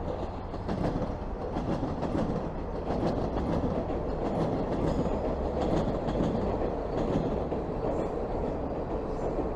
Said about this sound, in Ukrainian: Ніяк не можу себе змусити припинити запис, коли рухається потяг метро.